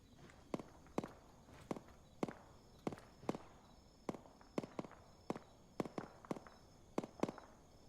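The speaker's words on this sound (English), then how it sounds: "I hear gunfire at 3-0 from center bunker position" Sharp video game gunshots crack in irregular bursts, single and double shots spaced through the clip, with a low background hum and no talking.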